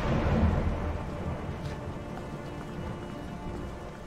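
Rumbling thunder in the video game A Way Out, loudest at the start and then settling into a steady, moderately loud wash of rain and storm noise with no talk.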